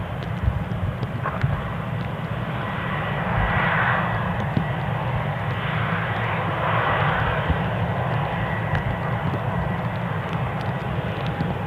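An easyJet jet airliner at Newcastle International Airport gives off a steady distant engine roar that swells slightly midway, heard alone with no voices.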